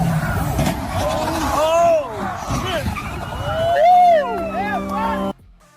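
A car brakes hard before a collision, tires squealing in rising and falling screeches over road noise and shouting, loud and close, ending in an abrupt cutoff into near silence.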